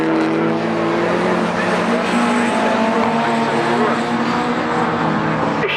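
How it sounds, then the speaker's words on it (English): Race cars at Croft circuit during a club race, a loud sustained engine roar that climbs through the gears as the cars close in and pass nearby, with a commentator talking underneath. "I think there we've got 36 now closing in on Mike Williamson."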